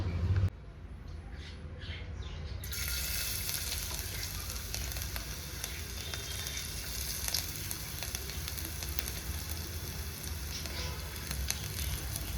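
Ginger and garlic dropped into hot oil for tomato soup: after a brief quieter moment, a loud, dense sizzle starts up and keeps crackling evenly and close throughout.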